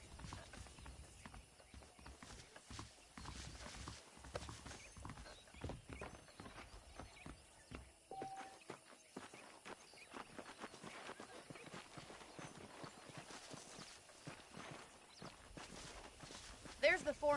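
Horse hooves clip-clop at a steady walking pace in the video game Red Dead Redemption, an even rhythm of hoof falls that runs under talking voices.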